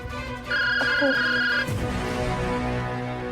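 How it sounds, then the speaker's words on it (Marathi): A phone rings indoors with a bright electronic ringtone, a sustained tone with a short melodic figure, then gives way to a low murmur and rustle. "फोन घ्या ना, फोन वाजतोय"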